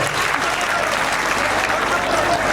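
Dense audience applause for the Bhanderi family at a community gathering hall, steady continuous clapping throughout.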